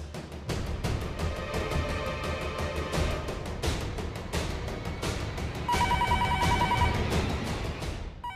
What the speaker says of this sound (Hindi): दिन भर ये फोन बजता रहेगा